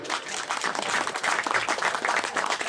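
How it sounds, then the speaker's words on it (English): An audience at an outdoor poetry evening in St. Mary of Calice at Cornoviglio applauds after a Baudelaire reading, with moderately loud, busy clapping and distinct hand hits throughout. "A round of applause for Baudelaire."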